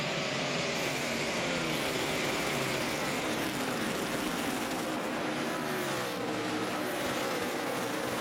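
NASCAR stock cars racing at Dover in the 2009 AAA 400, a dense, continuous roar of several V8 engines at steady volume, with shifting tones as cars pass, no voices.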